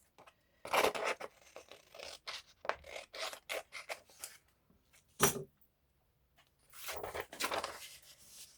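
Scissors snip through paper for a junk journal page in a run of close, rapid crisp cuts, pausing briefly before another short burst.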